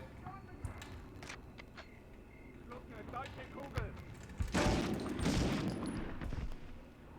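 Medal of Honor video game gunfire, scattered sharp shots building to a loud sustained burst of fire and explosions, heard under a speaking voice.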